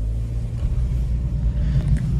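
A Hyundai Solaris (RB) drives on the road with its engine pulling under load, a heavy low rumble close by inside the cabin, steady throughout with no talking.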